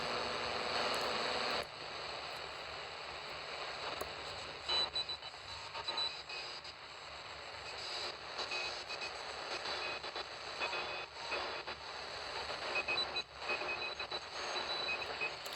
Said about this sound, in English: Shortwave is just kind of full of weird noises, I think.